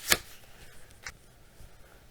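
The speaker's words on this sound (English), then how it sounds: "I'm just going to shuffle these up and put one in front of each book in no particular order." Playing cards being shuffled by hand at home, a quick riffle burst at the start followed by a fainter brief rustle, with no talking.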